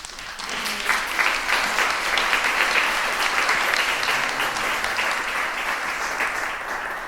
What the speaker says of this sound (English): So let's please welcome everyone with a warm applause.